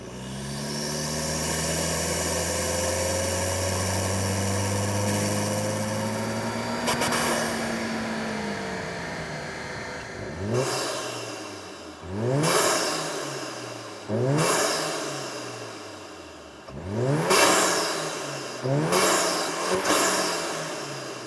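A VW MK7 Golf GTI with an EA888 engine and MST intake on a dyno holds a loud steady drone, then revs hard in four rising sweeps with sharp drops between pulls, close and dominant, with no talking.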